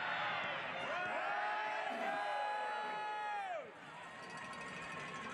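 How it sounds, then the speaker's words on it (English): Home fans at a soccer match at Capelli Sports Stadium roar and whoop in a sustained wave of cheering that swells and then drops off sharply, with a commentator's voice over the top. "And the Rhino crowd getting involved."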